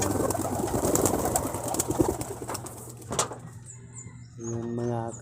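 Pigeons coo softly and repeatedly at close range, with low throaty calls coming through clearly near the end after a stretch of rustling and background noise.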